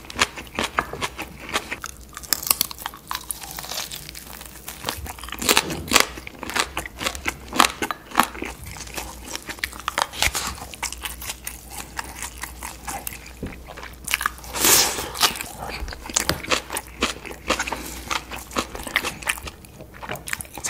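Fried whole pork belly eaten with torn kimchi made from salted napa cabbage, giving loud, close crunchy bites and wet chewing that repeat steadily for the whole stretch, with no talking.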